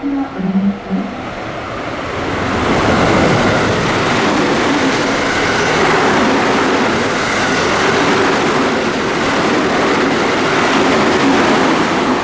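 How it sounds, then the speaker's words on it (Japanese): A JR West Biwako Line train passes through a station platform, a loud, sustained rumble of wheels and cars rolling steadily by at close range after a brief quieter moment with faint voices. "4番乗り場列車が通過します"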